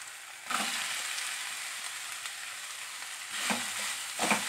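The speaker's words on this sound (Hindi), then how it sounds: "मीडियम फ्लेम अल्ली फ्राई माड़ी" Green chilli and onion frying over a medium flame, a continuous hiss of sizzling oil with a few louder bursts as the pan is stirred, heard up close and alone.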